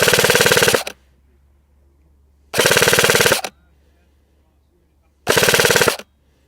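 An HK416 replica airsoft rifle firing at maximum range: three separate full-auto bursts, each under a second long, loud and close, with silence between them.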